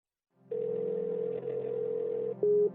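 A telephone tone sounds steadily and unanswered, a sustained electronic ring that holds for about two seconds and shifts pitch briefly near the end, with no voices over it.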